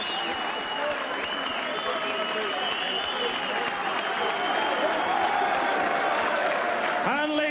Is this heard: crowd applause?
yes